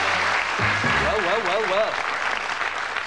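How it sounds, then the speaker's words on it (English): Applause from an audience at a Christmas game-show style evening, steady clapping throughout with a voice talking and singing over it in the middle. "Give them a nice round of applause"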